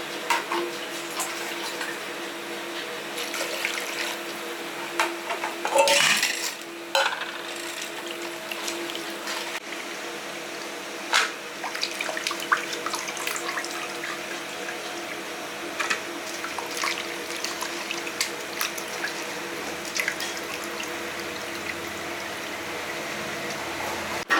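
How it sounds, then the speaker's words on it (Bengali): Mutton is rinsed under a running tap, giving a steady stream of water splashing over meat in a sink with occasional louder sloshes and clunks, close and continuous throughout. "প্রথমে আমি মাংসটা ধুয়ে মাংসটা ভালো করে ধুয়ে নিই"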